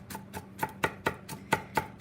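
A knife dices celery stalks on a cutting board for a vegan tuna salad, with about nine crisp, evenly spaced chops ringing close and clear and no talking.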